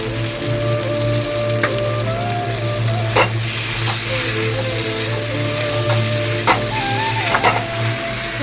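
Spices with Kashmiri chilli powder fry in a pan with a constant close sizzle. Occasional sharp utensil scrapes punctuate it over a steady low hum and faint tonal whine in the background.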